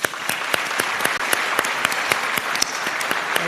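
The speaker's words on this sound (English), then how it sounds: "So give yourselves a round of applause." Dinner audience at a youth awards banquet applauding steadily, a dense wash of many hands clapping with a few sharper individual claps standing out, loud and continuous throughout.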